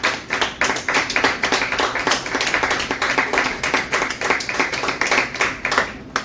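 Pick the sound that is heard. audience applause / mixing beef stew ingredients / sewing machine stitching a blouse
audience applause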